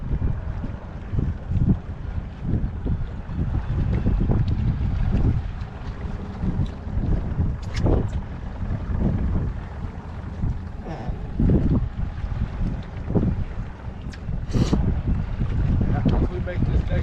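Wind rushing past a sailboat leaving the dock after a refit, a steady loud buffeting roar with gusts against the microphone, while people talk over it.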